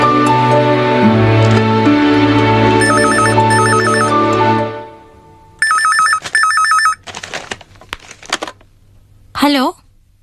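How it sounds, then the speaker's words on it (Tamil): A landline telephone rings in a home in a Tamil television drama, with repeated bursts of electronic trilling ringing over music and sound effects, followed by scattered clicks and a brief whooshing effect. "லீலா, உனக்கு தான் ஃபோன்."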